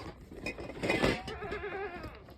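A goat bleats at dusk on a small farm at milking time, one wavering drawn-out cry that rises and trails off, close and clear over faint background rumble.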